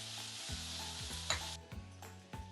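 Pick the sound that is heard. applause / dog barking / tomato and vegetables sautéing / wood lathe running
tomato and vegetables sautéing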